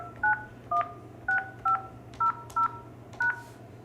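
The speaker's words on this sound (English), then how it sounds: "This is a demo of an outgoing call in a 7-digit allowed area." Keypad dialing on a Yealink desk phone: seven evenly spaced two-tone DTMF beeps, clear and close, each short, over a faint steady hum with no talking.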